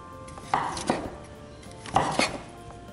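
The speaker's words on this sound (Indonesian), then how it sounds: "saya akan memotong kecil-kecil dari kentang yang sudah direbus ini" Boiled potato chopped into small pieces with a knife on a board: two pairs of crisp, close knife strikes separated by a short pause, in a quiet room with no voices.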